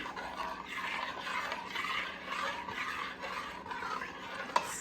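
A spoon stirs pumpkin peanut butter curry soup in a pot, a steady scraping swirl with soft repeated strokes and one brief clink near the end, heard alone at moderate volume.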